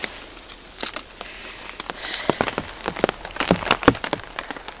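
Rain falling on a beeswax-waxed cotton tarp, a continuous soft patter with irregular sharper drops tapping close by, growing busier toward the end.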